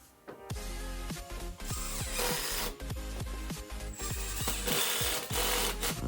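Drywall screws are driven into wood with a power driver, a series of rapid ratcheting whirs and sharp bursts repeating close-up in quick succession, loud and mechanical with no voices.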